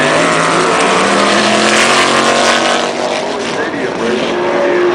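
A 1953 URA Championship vintage race car runs at a vintage race-car show, its loud engine roaring close and steady throughout with a droning tone.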